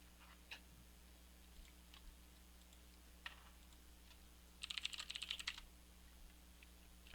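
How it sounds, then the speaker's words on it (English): Faint keystrokes on a computer keyboard at an auto parts catalog terminal in a repair shop: a few scattered taps, then a short fast burst of typing, over a low steady hum, with no talking. "And I'll just type in like brake cable."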